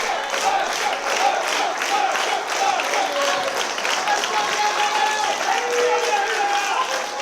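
Crowd applauding at a wrestling show, a continuous wash of clapping and crowd noise throughout, with voices mixed in among the audience.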